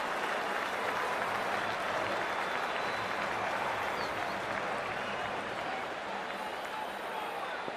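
Large stadium crowd in a Cricket 24 match between India and South Africa cheers and applauds in a steady, dense roar that holds at full level throughout, with no pauses.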